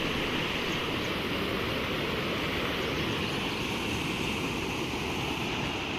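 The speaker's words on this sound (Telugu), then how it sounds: "ఈ వాటర్ అంతా కూడా సముద్రంలోనికి వెళ్ళిపోతుంది." Flooded Swarnamukhi river swollen by heavy rain and a cloudburst, its water rushing in a loud, steady, unbroken roar that fills the whole stretch without pause.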